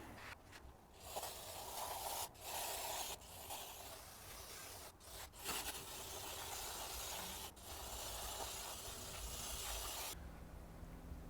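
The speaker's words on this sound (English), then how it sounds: "I'm going to use some brake cleaner and just kind of clean up this whole thing a little bit." Brake cleaner sprays in hissing bursts onto the drum brakes of a first-generation Toyota Tundra, several short and longer blasts separated by brief pauses, fairly quiet and close, with no talking.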